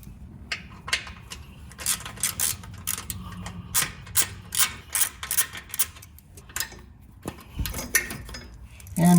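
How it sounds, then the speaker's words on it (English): A 10mm socket working the brake line bracket bolt on a Jeep Wrangler JL frame rail, with a series of sharp metallic clicks, ticks and clinks at an uneven rhythm, close and distinct. "now using a 10mm socket, I'm gonna remove the bolt securing the brake line bracket to the frame rail"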